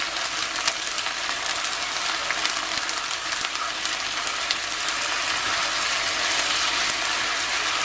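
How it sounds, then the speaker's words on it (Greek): Parsley frying in a pan with garlic-infused oil, giving a steady, loud, broadband sizzle that holds evenly throughout with faint crackles and occasional stirring scrapes. "Ανακατεύουμε."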